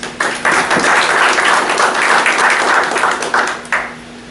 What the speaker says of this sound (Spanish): Les pido por favor un aplauso para el comentario.